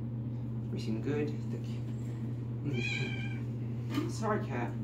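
A cat gives a few drawn-out meows while being carried during a bath, the cries rising over a steady low hum with some muffled voice-like sounds in between.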